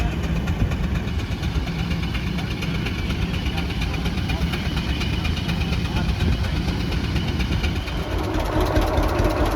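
A two-cylinder John Deere tractor engine runs smoothly and steadily at a steam show, its continuous even chug holding at a constant level throughout, with voices talking over it.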